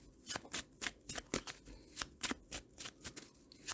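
Tarot cards shuffled and drawn by hand, a run of about a dozen crisp riffling and slapping bursts in an uneven rhythm, close and fairly loud, with no talk.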